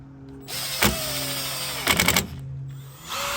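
Power drill boring into Ford-brand heavy-duty tailgate extender rails for a Ford Raptor: two short, loud drilling bursts over a low mechanical whine that shifts in pitch, with no talking.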